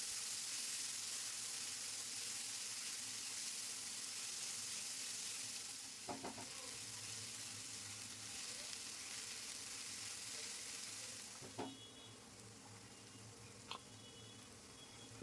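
Chopped onion, garlic, green chili and ginger fry gently in hot oil, giving a faint, steady sizzle with a few scattered clicks from stirring.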